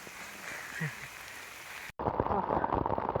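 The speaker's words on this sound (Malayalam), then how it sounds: "പകുതി ആയപ്പോൾ ഭയങ്കര മഴയാണ്" Rain patters steadily on surfaces in the Kerala mountains, fairly soft at first, then heavier and denser after an abrupt cut partway through.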